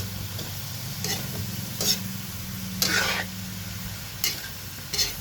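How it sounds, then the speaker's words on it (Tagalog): Bitter gourd and egg frying in a pan, a soft steady sizzle with several brief scraping stirs of a spatula at irregular intervals, close and fairly quiet. "pag haluin na natin"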